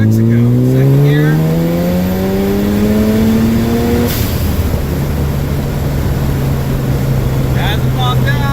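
A Volkswagen Super Beetle with a Type 1 transmission case pulls through second gear, its air-cooled engine note climbing steadily and loudly up close before the revs drop and settle into a steady drone.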